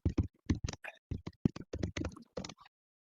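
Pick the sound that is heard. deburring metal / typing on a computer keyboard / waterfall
typing on a computer keyboard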